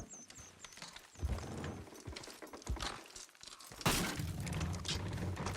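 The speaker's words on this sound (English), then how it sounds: "Horses will pull it clean down." Horses strain to pull down a wooden structure in Red Dead Redemption 2, with hooves clopping and timber cracking and shattering into a loud, sustained crash near the end.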